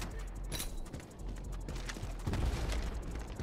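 Honey Badger rifle firing in the Ironsight video game, a steady stream of short, sharp shots running the whole time, with heavier thumps near the end.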